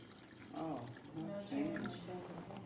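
A drink is poured briefly into a cup during a water pH test, a soft liquid splash with a gurgling trickle over about two seconds under faint background noise.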